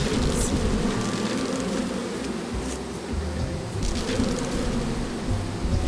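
A dense swarm of bees buzzes in the Psychonauts 2 video game, a loud, continuous droning hum that fills the whole stretch without a break, with no talking over it.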